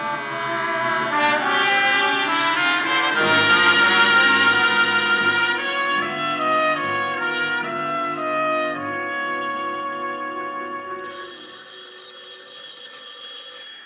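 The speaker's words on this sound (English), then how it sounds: "Telephone's ringing, Danny." An old-style telephone bell rings continuously and loudly for several seconds in a 1953 radio crime drama, its metallic ringing steady and close, with no voices present.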